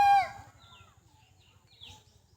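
A person in the Sonkupi forest of Purulia imitates a jackal howl: one short, loud, voiced cry right at the start, then quiet with faint, scattered bird chirps.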